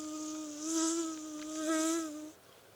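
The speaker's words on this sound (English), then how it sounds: "One bee flew through the window and around the girl's head" A single bee buzzing close by in a sound effect, a steady droning hum that swells twice as it circles, then cuts off, heard alone.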